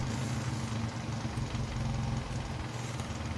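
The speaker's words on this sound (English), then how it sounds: "That noise you can hear is the force feedback on my joystick." The force feedback motor of a flight simulator joystick gives off a low, steady, engine-like buzzing hum with slight fluctuations, close by and continuous throughout.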